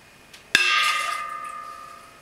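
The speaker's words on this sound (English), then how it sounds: "A bell." A single bell struck once, a sharp clang followed by a sustained ringing tone that slowly decays over about two seconds, heard alone without talk.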